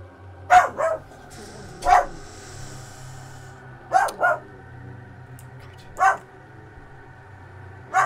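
A dog in the Resident Evil 4 video game barks in short single and double bursts spaced a couple of seconds apart, fairly close and loud over a low game ambience.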